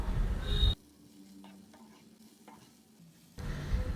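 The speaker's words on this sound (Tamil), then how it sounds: "முருங்கைக்கீரை சேர்த்துட்டு ரொம்ப நேரம் நம்ம வதக்க வேண்டாங்க ஒரு அஞ்சு நிமிஷத்துக்கு வதங்கினாவே போதும்" Drumstick (moringa) leaves sauté in a pan, loud bursts of frying at the start and end framing a quieter stretch of soft sizzling and scattered stirring ticks.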